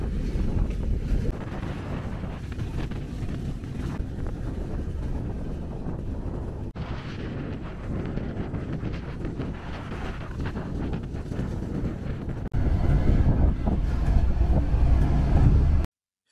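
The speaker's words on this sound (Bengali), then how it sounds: "বুড়িমারি এক্সপ্রেসের সাথে ক্রসিং শেষ করে আমাদের ট্রেন ছেড়ে দিল উল্লাপাড়া রেলওয়ে স্টেশন" The Chilahati Express pulls out of Ullapara station in Bangladesh, heard from on board as a loud, continuous rumble mixed with wind buffeting the microphone. The rumble grows heavier near the end.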